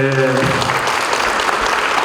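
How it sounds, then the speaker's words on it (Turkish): Audience applause at a Valentine's Day concert in Fethiye, a dense steady patter of many hands clapping together, loud and close throughout, with a sustained musical tone fading out at the start. "onun için bizler her zaman alkışı seviyoruz"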